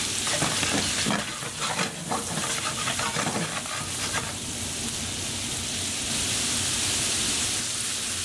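Meatballs for Armenian meatball soup are sautéing in a pan until browned, a loud, steady, close sizzle with crackling spatter that stays dense throughout, with no one speaking.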